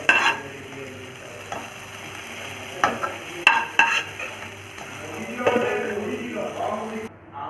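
Masala fries in oil in a kadai for an Indian-style mushroom masala, a soft, steady sizzle broken by the scrape and clink of a spoon stirring against the pan at irregular intervals.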